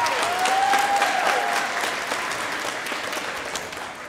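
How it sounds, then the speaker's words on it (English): Audience at a fourth-grade school music festival applauds teachers and school staff, a steady, even clapping that holds throughout and fades slightly toward the close. "I have a little round of applause for them for all they did to get to this point"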